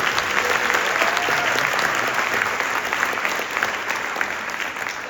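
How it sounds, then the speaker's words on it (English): A concert audience applauds a high school band at a winter concert, steady dense clapping from a large crowd, loud and continuous for the whole stretch with no talk. "So if you could give them a round of applause."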